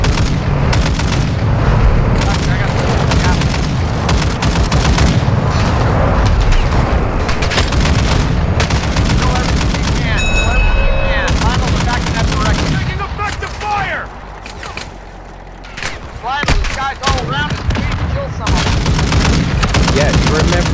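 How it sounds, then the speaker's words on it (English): Heavy gun mounted on an MRAP vehicle firing in sustained, rapid bursts, loud and close, easing into quieter stretches with scattered shots and game sounds toward the end. "Yes, remember, Mark, when you shoot too much with this, it has to cool down"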